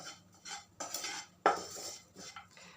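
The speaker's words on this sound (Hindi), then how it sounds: "और इसे अच्छी तरह से हमें मिला लेना है ताकि हमारे जो मसाले हैं वो जले नहीं।" A spoon stirs spices in a metal pan for Mumbai-style vada pav, giving close, intermittent scraping and clinking strokes with no voices.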